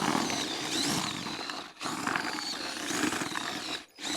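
A power drill whirs loudly and continuously, churning through a thick mix of fishing groundbait in a bucket, briefly cutting out twice before starting again.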